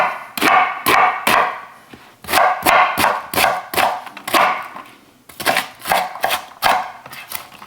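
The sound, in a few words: knife chopping onion roughly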